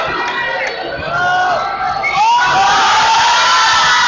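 Spectators at a 2011 BRIT high school basketball tournament game between St. George's and Centennial cheer and shout loudly during a free throw, a dense, steady roar of many voices with shrill yells rising above it throughout.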